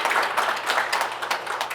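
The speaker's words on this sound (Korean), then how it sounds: "우리 시장님께 감사의 박수 한번 좀" An audience at a Jeju City residents' autonomy committee workshop claps for the mayor, producing a brisk burst of dense, fairly close applause that holds steady for under two seconds.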